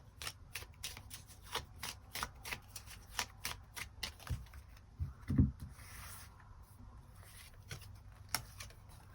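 Tarot cards shuffled before drawing extra cards, a close series of crisp rhythmic riffles and soft sliding rubs, quiet and steady with no talking.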